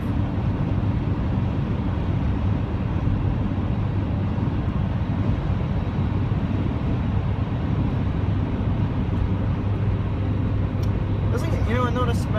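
Constant interior drone of a 2000 Honda Civic cruising on the highway, dense low road and engine rumble throughout with a light rattle toward the end.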